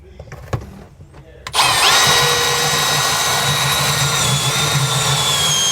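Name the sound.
drill punching pilot hole through metal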